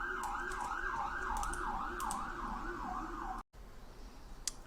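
A wailing emergency siren rises and falls in a steady repeating cycle, moderately loud, then cuts off briefly before faint traffic noise continues.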